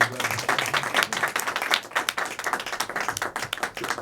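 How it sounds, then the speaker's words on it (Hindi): An audience at a literary gathering breaks into applause, a lively patter of individual claps rising and dipping in bursts across the whole stretch. "तालियों की गड़गड़ाहट।"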